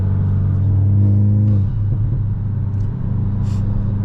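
A loud car exhaust ahead on the road booms with a deep droning rumble that holds steady, then drops off and settles into a rougher, lower hum, heard from inside a following straight-piped GTI.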